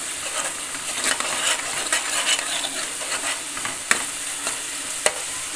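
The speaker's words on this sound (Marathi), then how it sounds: "मिक्स करून घ्यायचं।" Amti curry with masala stirred in a sizzling pan: a steady fry hiss with scraping spoon strokes throughout and two sharp metallic clinks near the end.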